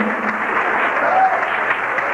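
Church congregation clapping, a dense, steady wash of applause held at even loudness throughout a short stretch, with no break or single voice standing out.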